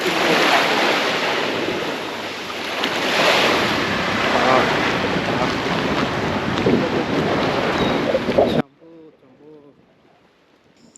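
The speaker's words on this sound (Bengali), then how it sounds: "শুধু সমুদ্রের এই যে গর্জন আর কিচ্ছু নেই" Loud, continuous roar of ocean waves at a beach on Coral Island, Pattaya, with wind buffeting the microphone, then it cuts off abruptly and a quiet voice speaks briefly.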